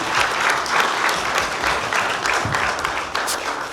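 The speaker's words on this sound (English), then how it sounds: "Let's give her a big round of applause." A ceremony audience gives a loud, sustained round of applause for a Women of the Year honoree, with close, dense clapping that pulses slightly throughout.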